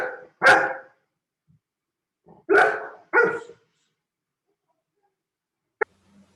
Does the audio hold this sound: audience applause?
no